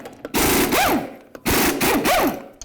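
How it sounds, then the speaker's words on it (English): A power tool spins lug nuts off a 1988-02 GMC Sierra 1500 wheel with a 22mm socket, two loud buzzing, rattling bursts with a rising-then-falling whine, separated by a short pause. "We're going to remove all 6 of them using a 22mm socket."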